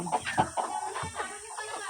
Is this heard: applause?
no